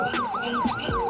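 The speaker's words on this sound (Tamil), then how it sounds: "இப்போ பார்த்தீங்கன்னா ஆம்புலன்ஸ் போயிட்டுருக்கு." Ambulance siren at Dundas Square in Toronto at night, a fast wailing yelp that rises and falls three times in quick succession, loud and close over city hum.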